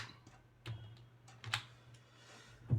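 A few separate keyboard key presses in a C++ code editor, scattered single clicks with short gaps between them, close and quiet with a faint steady hum underneath.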